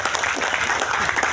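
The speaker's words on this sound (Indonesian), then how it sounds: "Boleh dong tepuk tangan dong Pak Margono" Applause from a village audience at an outdoor religious gathering, dense steady clapping that fills the whole moment at even loudness, with no voices over it.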